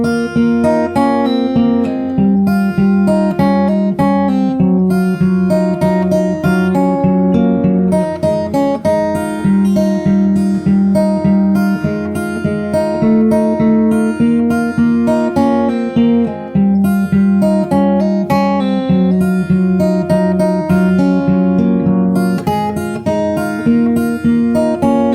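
Fingerstyle acoustic guitar picks the verse of a song on the top four strings, a steady, clear and close melody with a bass pulse running unbroken for the whole passage.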